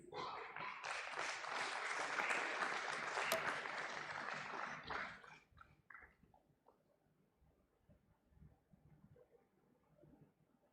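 Audience applause at an IPO listing ceremony, dense clapping for about five seconds that fades quickly into scattered claps and a quiet room.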